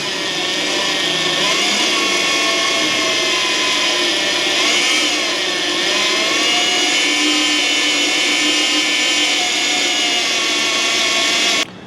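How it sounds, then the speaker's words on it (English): A power drill boring a 5/8 inch hole in the steel frame of a 1994-2002 Dodge Ram 2500/3500 truck, a loud steady whining drone with slight pitch wobbles under load, continuous until it stops abruptly at the end. "So what we're gonna do is drill just the outside hole to 5/8."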